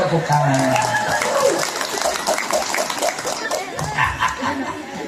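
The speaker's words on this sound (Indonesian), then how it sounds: "alah tepuk tangan" A crowd claps and cheers steadily, with chatter and a few laughs mixed in, fairly loud throughout.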